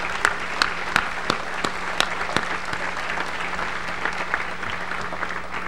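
Graduates at a DePauw University commencement ceremony applaud their parents: steady, moderately distant clapping from a large outdoor crowd, with a few sharper individual claps standing out above the wash throughout.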